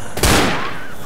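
A single sharp gunshot rings out in the video game Left 4 Dead as a headshot lands, a brief close crack over a steady background hiss.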